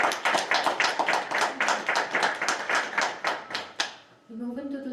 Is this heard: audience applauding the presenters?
yes